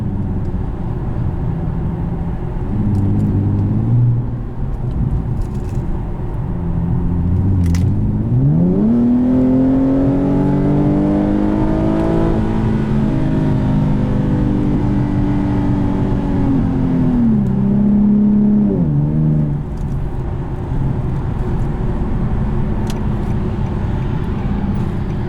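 A 2014 Infiniti Q60 IPL engine accelerates while driving, revs climbing through gears in loud, close sweeps, easing off and rising again over steady road noise, with no talking.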